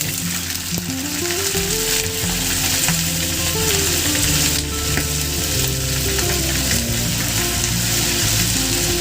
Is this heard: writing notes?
no